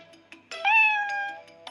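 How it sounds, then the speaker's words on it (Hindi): A cartoon cat lets out a loud, drawn-out meow during a tug-of-war, preceded by a few short squeaky mews, with nobody speaking. "बिल्ली जोर से म्याऊं म्याऊं करती है।"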